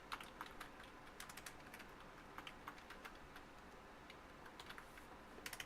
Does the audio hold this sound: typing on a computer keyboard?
yes